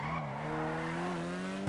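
Car tires skidding in GTA 5, a sustained tonal squeal with engine hum running steadily close up for nearly two seconds, alone without talk.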